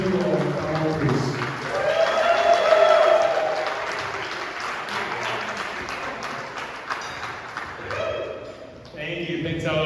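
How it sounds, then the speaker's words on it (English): Applause from the audience at a Sierra Club lunch keynote, steady clapping with some voices mixed in, swelling in the middle and then tapering off, with a brief break near the end. "let's give a huge round of applause"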